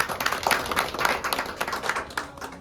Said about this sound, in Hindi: जोरदार हाथ ताली दीजिए।